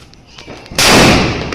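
A firecracker bomb on New Year's Eve bursts with one loud, sharp blast after a short quieter lead-in, and the explosion rings out and decays over about a second.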